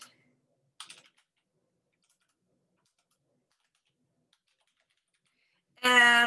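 A few quick key clicks come from typing on a computer keyboard while a business listing is entered. The short bursts are separated by near silence, and a brief voiced sound follows at the very end.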